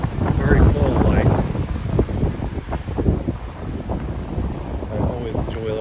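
Wind gusts buffet the microphone on a boat trip around the Apostle Islands, a loud rushing roar with water and hull noise beneath and a voice speaking over it.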